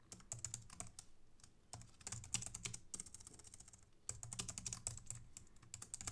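Typing on a computer keyboard while entering Markdown code, quick bursts of close, crisp key clicks with short pauses between runs and no voices.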